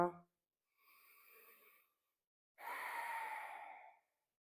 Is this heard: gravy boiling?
no